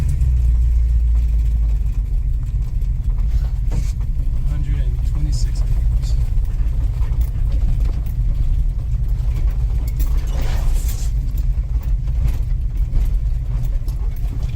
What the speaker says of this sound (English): Now they listening to this truck.